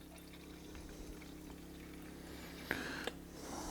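Fuel poured into the tank of a Stihl FS 91 brushcutter, a faint, quiet trickle of liquid with a couple of sharp knocks of the container near the end.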